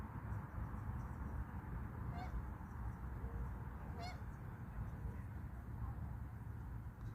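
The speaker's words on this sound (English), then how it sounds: "I hear geese somewhere and I don't see them." Geese honking somewhere near a river bank, a few short distant calls around two and four seconds, faint over steady outdoor background noise.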